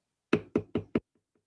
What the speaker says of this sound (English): one snowy day, she knocked at the stranger's door